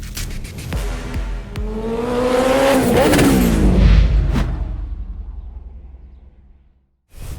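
A Brabus-modified Mercedes SLS AMG revs loudly, engine pitch sweeping up through the gears as it accelerates, then fading away before a short burst of engine noise returns at the end.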